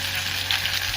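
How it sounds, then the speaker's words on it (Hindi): Ghevar batter hits hot oil in a pan and fries with a dense, steady sizzle and crackling bubbling, close and continuous throughout. "अब हम इसमें बैटर डालेंगे, और देखिए आप इस तरह से डालें बिल्कुल, और जब इसमें बबल्स आए तो आप रुक जाएं।"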